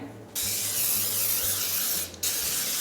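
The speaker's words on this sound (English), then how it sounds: "I'm going to spray it with some non-stick spray." A steady hiss of non-stick cooking spray from an aerosol can bursts out for about two seconds into a casserole dish, briefly stopping before a second short spray, close and fairly loud.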